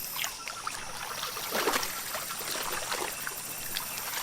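Jungle stream water trickles and splashes faintly as wild gorillas wade in cautiously, a steady, soft watery rush with a brief louder swell midway and no voices.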